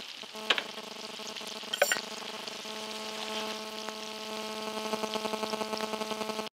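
Pasta simmering and frying in oil in a pan gives a steady close sizzle with a low humming tone and rapid bubbling pulses that grow more rhythmic toward the end, broken by a couple of sharp clinks early on.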